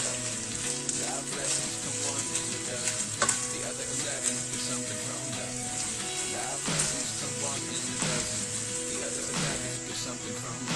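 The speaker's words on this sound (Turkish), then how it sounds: "birazcık da biberlerle kavuracağız bu şekilde" Peppers sautéing with meat in a pan for a Turkish sac tava dish, a steady dense sizzle and crackle throughout with occasional stirring clinks, under a speaking voice.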